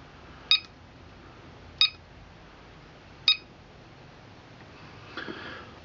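A radio-control battery charger, balancing two receiver batteries, signals a finished charge with three short, sharp beeps spaced about a second and a half apart over a faint steady hiss.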